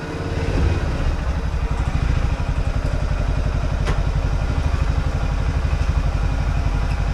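A Honda Rincon 680 ATV engine idles steadily while warming up, a close, loud, even mechanical chug with a faint clatter and no talking.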